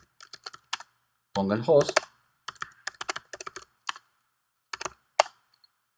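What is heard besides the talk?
typing on a computer keyboard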